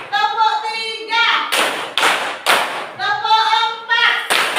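A fourth-grade class claps hands in a counted rhythm, bursts of clapping alternating with a voice calling out the count, loud and close in a classroom.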